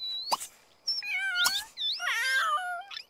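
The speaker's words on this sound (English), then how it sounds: "I really wish the cats didn't sound like they were being hurt or something like that, because the sounds are just dreadful" Cats meow and caterwaul in drawn-out, wailing cries that rise and bend, several loud overlapping yowls close by with short clicks and knocks between them.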